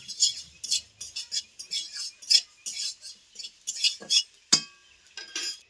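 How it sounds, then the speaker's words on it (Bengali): A metal spoon clinks and scrapes against a kadai while spices and mustard seeds are stirred for raw mango pickle, giving irregular, close, sharp taps in quick bursts with quiet gaps between them. "সর্ষেটা দিয়ে বেশি ভাজবো না একটু নাড়াচাড়া করে আমি ঢেলে নেব"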